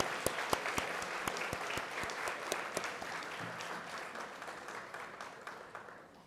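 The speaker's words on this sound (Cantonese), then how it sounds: "咁我哋唔好吝嗇我哋嘅掌聲，我哋再一次恭賀得獎嘅同學。" Applause at a Form Six graduation ceremony rings out through the hall, with many hands clapping in a dense burst that gradually thins and fades over several seconds.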